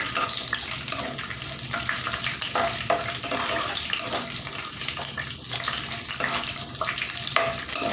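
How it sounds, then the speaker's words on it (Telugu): Cashew nuts frying in hot oil for a cashew and drumstick curry, a steady close sizzle and bubbling with occasional stirring scrapes, continuous throughout. "ఇప్పుడైతే మనం జీడిపప్పులు కొద్దిగా వేపుకుందామండి."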